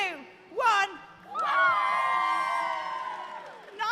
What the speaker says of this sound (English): Are you ready for your big cheer?